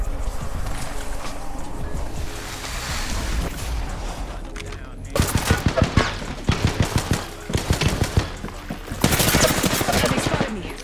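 Rapid automatic gunfire from an online shooter video game, bursts of sharp shots in quick rhythmic volleys after a quieter stretch, loud and close with steady game ambience underneath.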